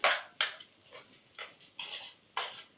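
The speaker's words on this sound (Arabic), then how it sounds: "هو لازم المصري يقلب فيه شويه كده" A spoon stirs chicken and rice with turmeric and curry in a metal pot, striking the pot in about six sharp, irregular clinks and scrapes with short gaps between them.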